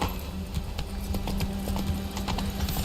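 Hooves of a horse galloping in The Witcher 3 video game, a steady rapid clip-clop rhythm running throughout over constant game ambience and a low music hum, close and fairly loud.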